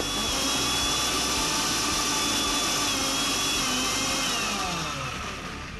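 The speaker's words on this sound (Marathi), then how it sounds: "तर ते मिक्सर मला लागेल आणि मिक्सर मध्ये वाटून घ्यायचं" A mixer grinder whirs loudly through sprouted moong and matki mixed with water, a steady high motor whine with rough churning beneath, easing slightly as it winds down at the end.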